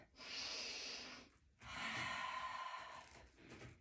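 Two long, deep breaths during an abs workout, each a slow breathy rush of air, close and fairly quiet, separated by a brief pause.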